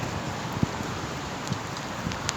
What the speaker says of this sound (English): Started raining pretty heavy again.